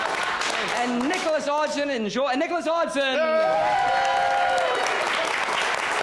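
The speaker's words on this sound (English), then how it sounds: "Round of applause for all our improvisers." Live theatre improv audience applauds the show's improvisers with sustained, dense clapping and a few cheers, while an announcer speaks over the crowd.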